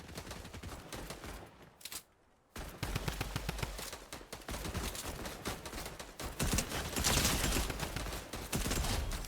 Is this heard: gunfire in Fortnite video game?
yes